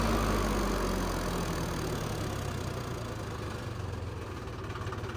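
A Mahindra Arjun Novo tractor engine idles close by, its deep, steady diesel rumble and vibration continuing evenly with no voices.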